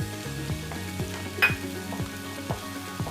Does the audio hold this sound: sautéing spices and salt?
yes